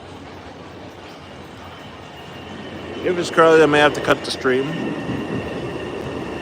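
MBTA Red Line Ashmont subway train pulling into a station, a low rumble building steadily into a loud roar with brief high squealing tones midway, as someone talks over it.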